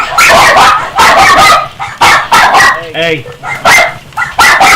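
A little puppy named Magnus yips, barks and whimpers in a short tantrum, high whiny cries breaking out between a person's close, loud speech.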